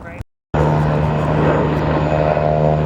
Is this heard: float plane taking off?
yes